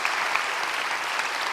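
A church congregation applauds during a worship service, a dense, steady wash of many hands clapping at close range with no voices over it.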